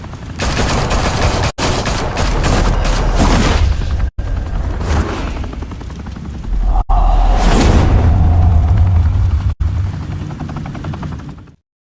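Heavy sustained gunfire in the Batman The Telltale Series video game, a dense continuous roar of automatic shots with rotor-like drone and a few brief dropouts, loud and close.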